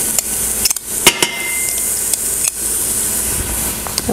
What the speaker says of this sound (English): now we'll give this a stir again to make sure the garlic is not burning and the onion's not burning